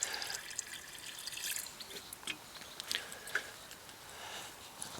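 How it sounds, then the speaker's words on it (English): Water poured from a tap or container onto comfrey leaves in a bucket, a soft, close splashing and trickling with scattered drips, steady and fairly quiet with no talking. "I need to put a little bit more water in it"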